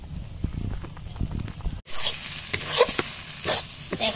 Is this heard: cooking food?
yes